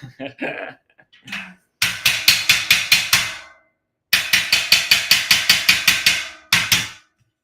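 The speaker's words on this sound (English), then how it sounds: "And then we just need our hammer." Sharp, rapid hammer blows ring out while assembling a garage shelving unit, in two quick bursts of about a dozen strikes each, then a single final hit, close and loud.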